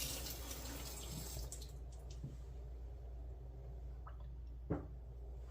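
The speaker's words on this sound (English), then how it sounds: "So here's our airlock. We want to fill it about half full of water." Water trickles and drips into a fermentation airlock, a soft running pour with a few distinct drips near the end, close and quiet with no talking.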